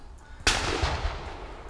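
A single loud shot rings out from an Ata Arms Neo 12 shotgun firing a Karat 12/70 slug: one sharp crack after a brief quiet moment, with a rumbling tail that fades slowly outdoors.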